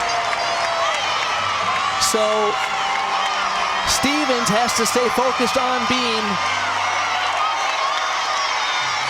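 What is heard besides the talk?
crowd cheering at gymnastics meet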